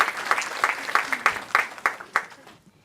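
Audience clapping for a guest joining a panel on healthy eating, a short round of distinct, fairly sparse claps in a loose rhythm that fades out after a couple of seconds.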